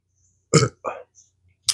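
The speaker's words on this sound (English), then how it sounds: "Excuse me, burp." A person gives a burp after eating hot mustard, followed by a second, shorter eructation and another quick throaty sound, each close and distinct against silence.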